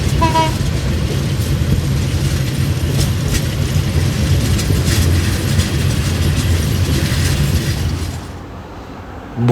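Steady, loud rumble of a moving train heard from inside a passenger carriage at night, with continuous wheel and track noise that drops off near the end.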